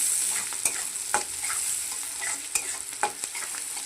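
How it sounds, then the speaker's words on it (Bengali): Onions sizzle in a pan under a steady frying hiss, with sharp scraping stirs every second or so; no talking. "এটা একটু ভাজা হবে"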